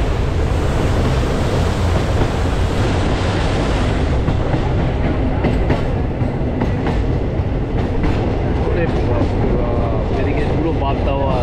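A Haldibari–Kolkata Superfast Express rolls along at speed, with a steady loud roar and faint clickety-clack of wheels over rail joints throughout, while voices talk underneath.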